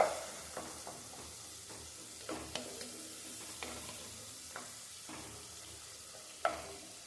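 Soft sizzling of tomatoes sautéing in a pan with scattered scraping and stirring clicks, quiet and continuous, no voices.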